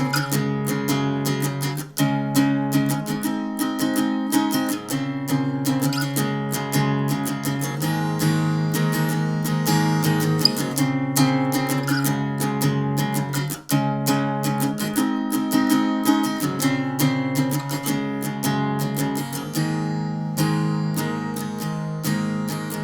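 An acoustic guitar plays in a steady strummed chord pattern, fairly quiet and even, with no talking over it.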